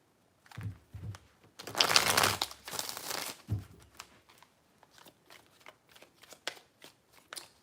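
Tarot cards being shuffled close up, a dense riffling burst followed by softer, scattered card flicks and taps.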